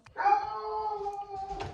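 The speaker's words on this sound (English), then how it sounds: "Excuse my dog" A dog howls close by indoors, a single drawn-out wavering howl lasting over a second, fairly loud and alone.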